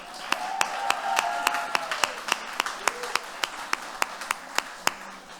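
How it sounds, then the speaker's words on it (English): Steady, evenly spaced clapping at a university master's graduation ceremony continues throughout, crisp and close, with faint voices underneath. "a big round of applause for all of them"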